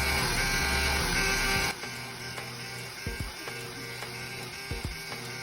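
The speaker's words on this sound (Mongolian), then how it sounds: "print товчон дээр дарж үр дүнгээ хэвлэж авна гэсэн үг." A refrigerant identifier tool printing its results: a steady mechanical buzz at first, then a quieter whirring hum broken by several short clicking feed ticks.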